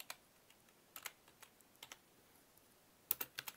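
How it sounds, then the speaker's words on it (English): Quiet, close clicks of a computer keyboard as a command is typed in a terminal, irregular keystrokes with pauses, then a quick burst of several keys at the end. "I'm going to type in git config minus minus global"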